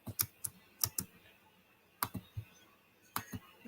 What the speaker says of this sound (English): you're typing away in your computer on Google